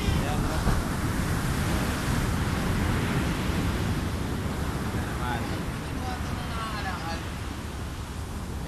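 Big storm waves pound the shore in rough weather at sea, a continuous loud roar of surf mixed with heavy wind buffeting the microphone.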